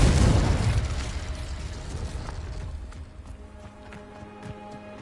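A fire and blast spell combination bursts loudly in Hogwarts Legacy, a heavy explosive boom at the start fading into crackling debris and game ambience.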